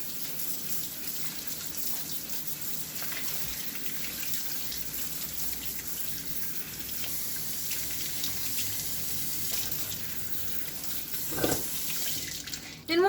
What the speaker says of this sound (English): I'm just going to take and rinse them with some cold water